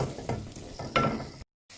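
Masala sizzling and being stirred in a cooking pot for an egg-potato and spinach-potato curry, with soft frying crackle and a few scraping strokes, close and quiet, ending in a brief silence.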